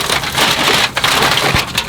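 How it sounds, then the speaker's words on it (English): Rain falls outdoors in a backyard while a brisket is being cooked, with a steady dense hiss of drops and scattered taps on nearby surfaces, loud and close with no talking. "And so I'm starting to get some rain"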